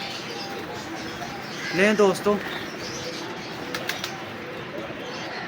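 Breeder pigeons coo in a short, clear burst near the microphone, then a few fainter calls follow, under a voice talking over a steady noisy background.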